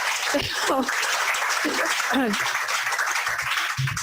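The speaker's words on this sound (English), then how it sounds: "That deserves a round of applause." Audience applause at an interpreting conference closing plenary, continuous clapping with voices talking and calling out over it throughout.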